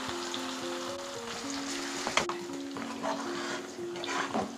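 Fish curry with tamarind and chili paste bubbling in a pan over a medium flame, giving a steady, close sizzle and soft popping with faint humming tones underneath.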